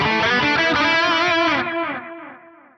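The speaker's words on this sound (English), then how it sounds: "if I wanted a stereo delay, like say for example, I choose this stereo BBD type, then this is going to give me a stereo repeats" Distorted electric guitar chord played through a Fractal Axe-Fx III with a stereo BBD-type delay, the warm repeats smearing the strum and trailing away over about a second after the playing stops.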